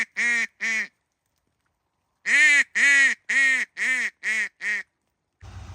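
A flock of coots on open water gives loud, nasal honking calls nearby: a quick pair, a pause, then a rhythmic run of six calls in a row.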